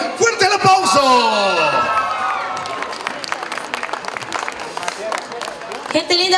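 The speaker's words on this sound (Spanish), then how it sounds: "¡Fuerte el aplauso!" Fans at a live telethon stage burst into clapping, whoops and shouts for a singer and a band. A voice and ringing music tail off at first, then the applause carries on, loud and full.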